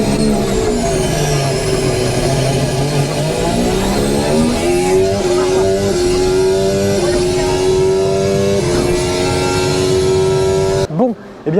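A Mercedes-AMG F1 racing simulator at a motor show plays a loud, continuous engine note that climbs and shifts through revs and gear changes, with crowd noise faintly beneath and an abrupt cut at the end.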